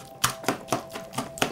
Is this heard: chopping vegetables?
yes